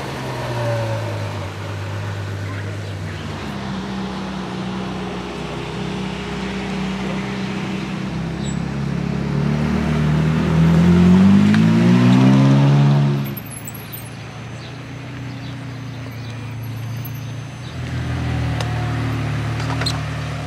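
A Ferrari FF idles on a Monaco street with a deep, steady engine note, then revs up and falls back before settling into idle again, close and fairly loud.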